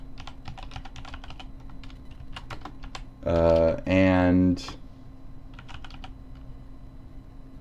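Fast typing on a computer keyboard during a live stream, a close run of clicky keystrokes with a short burst of speech in the middle.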